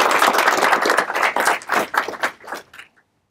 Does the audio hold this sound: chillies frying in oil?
no